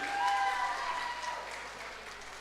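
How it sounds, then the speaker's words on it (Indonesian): Crowd at an Indonesian community prayer gathering applauds steadily, a moderate wash of clapping that slowly tapers over a couple of seconds. "Tepuk tangan buat ibu-ibu."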